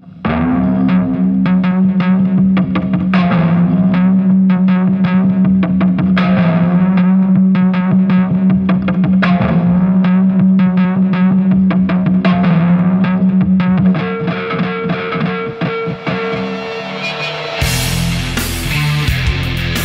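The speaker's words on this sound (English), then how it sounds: "now you know what a bow can sound like if you put a pickup on it and add some distortion, delay, and reverb" Archery bow fitted with a pickup and played through distortion, delay and reverb, giving a sustained, droning, heavily processed tone with repeating pulses that swells and echoes, shifting into a harsher burst near the end.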